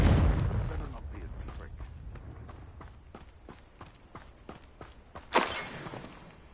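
A Confringo fire spell blasting in Hogwarts Legacy, a sharp explosive burst near the end following a string of soft thuds, with a voice calling out the spell.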